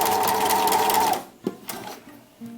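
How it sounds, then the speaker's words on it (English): A sewing machine back-stitches the end of a rouleau cord with a fast, close mechanical whir that stops abruptly after about a second, followed by a few soft handling clicks. "And then you do your back stitching."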